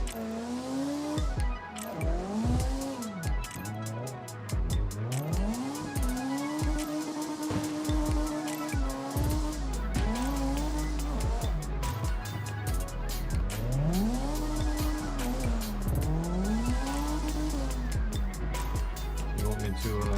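Car tires squeal continuously while drifting in the CarX Drift Racing video game, with a steady engine drone and rising, falling screeches throughout, loud and close, as someone talks over it.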